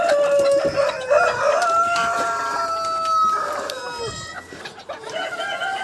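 Farmyard chickens and a rooster clucking and crowing loudly while being fed grain, overlapping calls from several birds close by.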